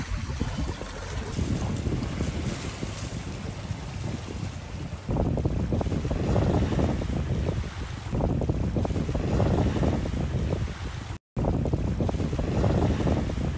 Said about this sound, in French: Alors on est en plein dans les bourrasques catabatiques.